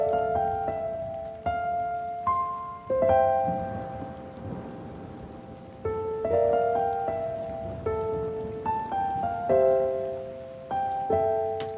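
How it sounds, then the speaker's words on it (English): Rain and distant thunder run steadily beneath a slow, sad, cinematic music track, with piano-like notes changing every second or so over the wash of rain. "I use rain throughout this because it's a sad sounding track"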